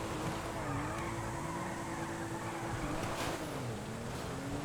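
Engine of a Surano sports car in GTA V held near redline, a steady loud droning whine with pitch dips where the rev limiter cuts in, continuous and close with no talk.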